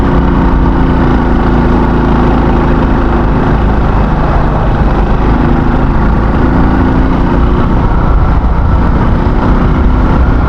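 A motorcycle engine labours steadily in third gear while climbing a steep mountain road toward a waterfall, a loud, continuous drone close to the rider with no break across the whole stretch.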